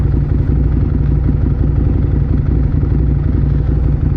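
Loud, close smoking motorcycle engine idling with a steady low throbbing chug and rattling clatter, continuous throughout without any talking.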